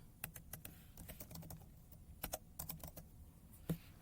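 A command being typed on a computer keyboard in AutoCAD 2024: quiet, close, irregular key clicks in quick bursts with no talking.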